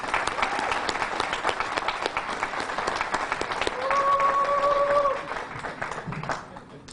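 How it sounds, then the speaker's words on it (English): A crowd at an outdoor statue unveiling press conference gives a sustained round of applause, swelling with a few cheers and a held whistle-like tone before tapering off toward the end. "And let's give them another big round of applause"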